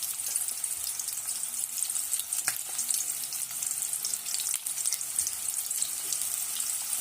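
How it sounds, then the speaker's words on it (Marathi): Onions fry steadily in a pan as they brown for a village-style spicy chicken curry, making a continuous, even hiss of sizzling oil with a few faint clicks of stirring and no voices. "कांदा आपल्याला तपकिरी होईपर्यंत व्यवस्थित भाजून घ्यायचा आहे"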